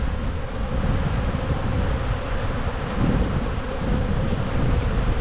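A steady, loud, close drone of many honey bees buzzing fills the air during a beehive inspection, continuous and unbroken with no voices.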